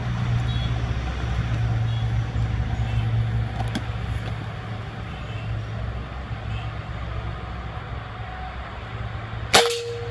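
A single air rifle shot fired with an Eleven Black pellet at a shooting range cracks out as one sharp, brief report near the end, following a long stretch of steady background rumble with no talk.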